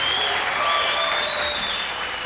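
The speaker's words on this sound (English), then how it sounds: "ladies and gentlemen, another round of applause, please," Audience applause for a contestant on a vocal talent show, a steady full wash of clapping from the crowd with faint whistles or tones running over it.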